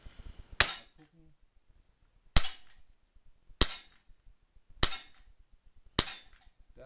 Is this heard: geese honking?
no